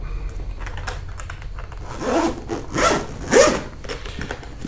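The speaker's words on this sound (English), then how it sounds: "We're going to zip her up." Three or four quick, rasping zipper strokes close a soft carrying case for drones and action cameras, each pull louder than the one before, with no talking.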